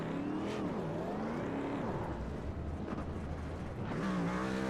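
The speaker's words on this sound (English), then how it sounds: "as we listen to the glorious sound of that engine revving inside the truck, the rubber burning on the asphalt" A truck engine revs hard in a racing game at Kentucky Speedway during a victory burnout on asphalt, its pitch sweeping up and down in repeated surges, fairly quiet and without speech.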